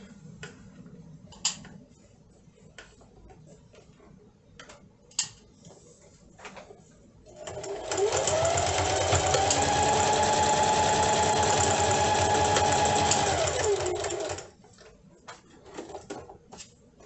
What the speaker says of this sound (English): line it up just like that and do a top stitch